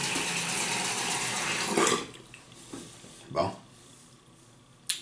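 Water runs and splashes during a traditional wet shave, first as a steady stream, then as a few brief splashes and drips up close while someone talks over it.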